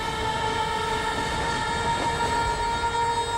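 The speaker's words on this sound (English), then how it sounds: "Aha, train." A train in Red Dead Redemption rolls past with a steady rumble and tonal rail ringing, loud and continuous, with no voices over it.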